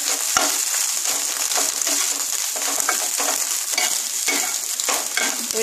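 Scrambled egg with coriander leaves is stirred in a hot pan, a steady loud sizzle broken by repeated close scraping strokes of the spatula.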